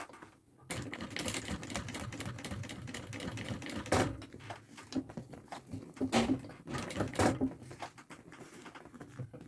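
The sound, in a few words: sewing machine stitching a thermal backpack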